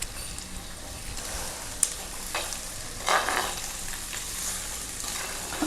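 Onions salted and sautéing in a pan for Kerala-style egg fish curry, an even close sizzle with occasional stirring scrapes and a sharp clink, no talking.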